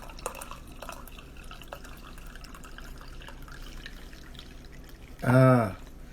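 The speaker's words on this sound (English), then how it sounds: "pouring up my tea" Tea poured into a cup near the end, a short rising liquid gurgle that lasts about half a second over a quiet room background with faint drips and small handling noises.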